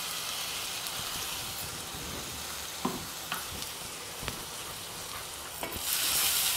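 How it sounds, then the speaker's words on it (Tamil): Mint, green chilli and ground garlic paste sautéing in a pan for millet pulao, a steady close sizzle broken by several sharp spatula scrapes and knocks, hiss swelling at the end, no voices. "இதையும் பச்சை வாசனை போகிற வரைக்கும் வதக்கிக்கணும்."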